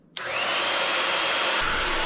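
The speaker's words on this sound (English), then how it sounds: "Hair dryer, which I use every single morning" A hair dryer switches on abruptly while plugged into a Bluetti AC200P portable power station, then blows a steady, loud, close whooshing roar with a faint motor whine and no talking.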